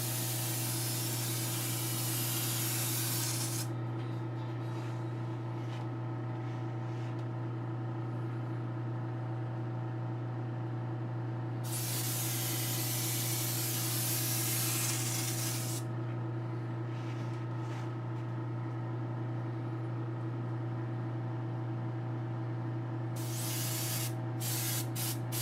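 Spray painting in a home workshop, with long hissing aerosol bursts starting and stopping in several passes over a constant low electrical hum from a nearby filtered fan or ventilation unit, and no talking.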